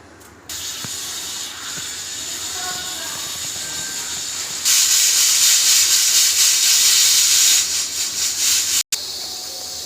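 A pressure cooker cooking moong dal on the stove lets off steam as a steady hiss, then bursts into a loud, sustained jet for several seconds before it cuts off abruptly.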